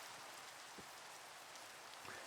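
Steady rain falling in a Minecraft-style blocky survival game, a constant broadband hiss of drops on surfaces with no talking, faint low thumps near the start and end.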